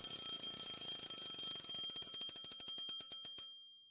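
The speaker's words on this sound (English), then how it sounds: "Shut off the alarm by reflex." An alarm clock rings loudly in a rapid, steady run of electronic pulses that lasts a few seconds and then cuts off abruptly.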